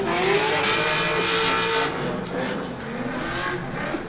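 A V8-swapped drift car at Hotpit Autofest at Kern County Raceway roars close by in a loud, sustained engine note with tire noise throughout.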